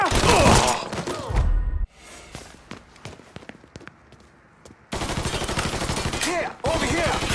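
Gunfire in the video game Mafia 3: dense bursts of shots come in loud volleys at the start and again near the end, with quieter scattered pops and thuds in the lull between.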